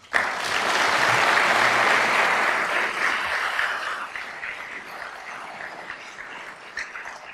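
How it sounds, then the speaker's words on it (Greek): Warm applause from an audience honoring firefighting pilots at an official ceremony marking the end of the fire season, loud and dense at first, then gradually thinning and tapering off into scattered claps. "σας αξίζει πραγματικά ένα πολύ θερμό χειροκρότημα"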